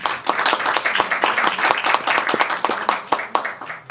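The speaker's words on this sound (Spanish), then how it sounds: "Un aplauso para él también." At a university book presentation in Peru, an audience gives a burst of close, crisp applause: many hands clapping at once in a lively, uneven patter that lasts a few seconds without letting up.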